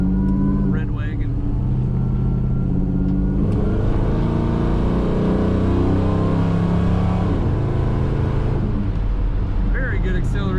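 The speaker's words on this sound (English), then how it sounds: "I love that exhaust sound on this car." A 1962 Chevrolet wagon's engine revs and accelerates, its exhaust a loud, deep, throaty rumble that holds steady throughout, with someone talking over it.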